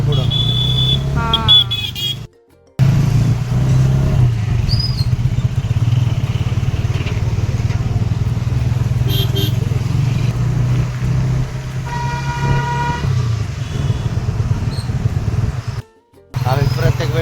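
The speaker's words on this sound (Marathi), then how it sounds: "आज सुट्टीचा दिवस असल्यामुळे जरा जास्तच ट्रॅफिक आहे." Road traffic heard from a moving two-wheeler on a busy holiday road, with a tractor ahead: a continuous low engine and wind rumble, brief horn toots and passing vehicles, with a couple of short dropouts.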